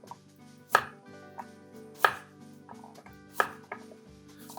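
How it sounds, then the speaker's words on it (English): A knife chops butternut squash into cubes on a board in sharp, close strikes about every second and a third, with lighter taps between. There is no talking. "So we're gonna cube these up."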